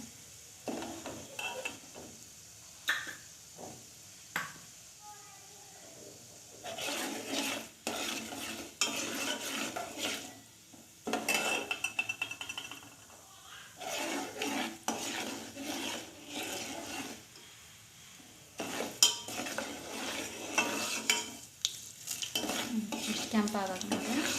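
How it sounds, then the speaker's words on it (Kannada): Mustard seeds spluttering in hot oil for upma after the lentils have browned: crackling pops and sizzle alternate with spoon stirring and pan clatter, loud in bursts with quieter gaps between. "ಸಾಸಿವೆ ಚಟಪಟ ಸಿಡಿಲ್ರಿ ಅವು"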